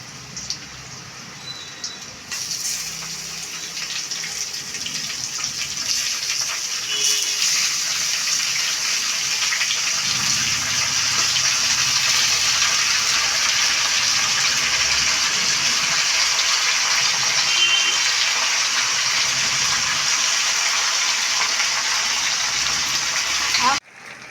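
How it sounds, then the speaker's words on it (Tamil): Chicken pieces go into hot oil already holding dried red chillies and curry leaves for Chintamani chicken, raising a loud, steady hissing sizzle that holds almost unbroken for the whole stretch. "இப்போ நம்ம சிக்கன் போட்டுக்கலாம்"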